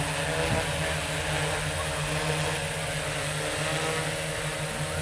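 Multirotor drone with a Xaircraft SuperX flight controller hovering close by, a loud, constant whining rotor and motor drone holding steady throughout.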